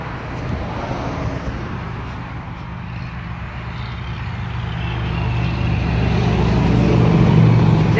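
A Volvo truck approaches on the road, its low engine rumble and tire roar building steadily louder over eight seconds amid wind noise.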